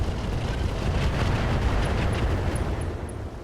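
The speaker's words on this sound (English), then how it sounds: "Firing all weapons." A RogueTech mech fires all its weapons, including short-range missiles, in one sustained, loud eruption of blasts and booms that rumbles for a few seconds before easing slightly, with no talking.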